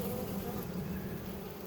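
Honey bees buzzing densely around a queen cage inside a hive, a close, continuous low drone with no talk.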